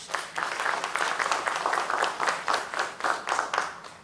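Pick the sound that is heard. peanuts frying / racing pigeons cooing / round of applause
round of applause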